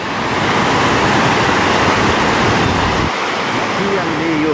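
Stream water rushes loudly and steadily past a drinking-water intake pipe beside a small river, a continuous close roar of flowing water with no pause.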